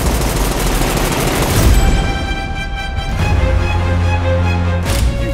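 Heavy gunfire from the John Wick 3 trailer: dense rapid shots and booming blasts with a sustained musical tone swelling underneath, loud and close.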